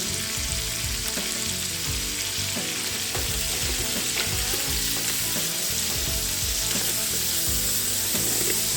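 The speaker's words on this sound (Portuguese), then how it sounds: "Vou jogar o alho poró. E vou dar uma mexida." Steady, loud sizzling of leeks and onions frying in a pan, with scraping and clattering from stirring throughout.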